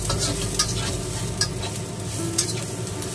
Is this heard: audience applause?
no